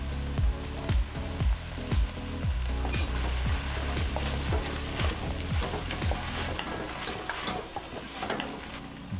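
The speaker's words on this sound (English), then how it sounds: "I'm just gonna saute that down" Ground turkey sautéing with chopped garlic and tomatoes in a hot pan, a close sizzle broken by a regular series of scraping stirs through the first half, then a looser continuous crackle.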